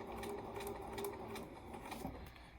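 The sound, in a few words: Bernina sewing machine stitching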